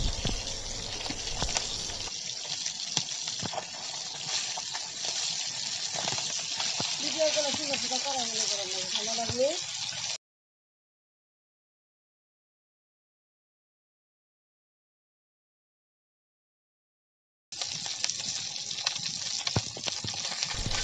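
Fish fries in hot oil with a constant broadband sizzle and hiss. A person talks over it, and the sound cuts out completely for several seconds before the sizzling resumes.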